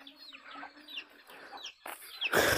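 A hen clucks in short uneven calls near the camera on a rural property in Uiramutã, a featherless hen sheltering a chick, with a brief louder burst at the end.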